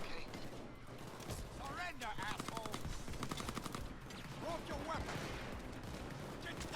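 Video game gunfire in a solo Rats mission, with steady rapid shots over loud game noise and a near voice talking at times.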